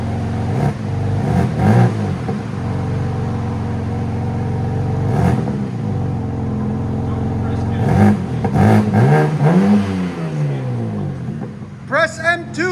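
A 2025 BMW M3 Competition fitted with a Dinan X-pipe and resonator delete idles nearby, then revs in several sharp bursts that climb and fall, with people talking between the blips.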